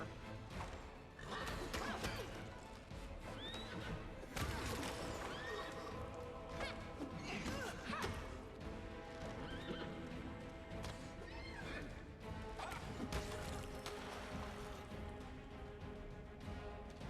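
A horse whinnies repeatedly in the fantasy role-playing video game Pathfinder: Wrath of the Righteous, over continuous battle clatter, hoof thuds and impacts, all dense and steady in level throughout.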